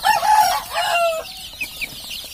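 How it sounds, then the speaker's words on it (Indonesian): Chickens clucking close by, a few short calls in the first second followed by quieter scattered clucks and chirps. "Ayam kita kondisinya fresh dan segar-segar semuanya."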